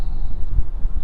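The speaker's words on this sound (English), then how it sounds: "that wind's really picking up right here" Wind buffets and rumbles across the microphone in a continuous, gusty roar beside a small creek.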